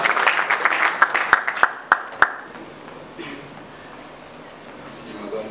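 An audience claps at a political rally event for the Horizon 2023 structure, a burst of applause with sharp individual claps that fades after a couple of seconds into a quiet room murmur.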